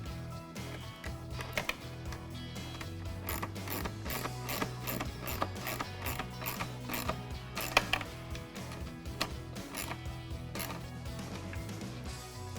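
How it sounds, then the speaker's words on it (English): Factory screws being driven back into plastic trim on a 2015-2020 Ford Mustang produce a steady run of close ratcheting clicks and mechanical ticking throughout. "Feed the harnesses through, put it in the stock location, and then reinstall the factory screws"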